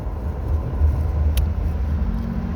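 A car drives along the road with a steady low engine and tyre rumble heard from inside the cabin, loud and continuous, with one brief high tick partway through.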